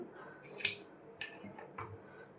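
Scissors snip through blouse cloth in a few quick, close, crisp cuts with short pauses between, alone and without talk.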